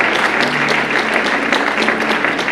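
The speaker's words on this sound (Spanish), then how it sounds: "démosle un fuerte aplauso, por favor." A church congregation applauds loudly and steadily during a sermon, dense clapping filling the room without a break.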